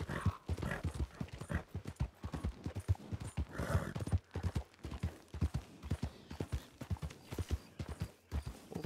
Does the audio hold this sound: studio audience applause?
no